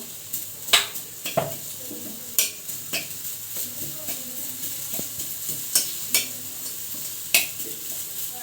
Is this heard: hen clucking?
no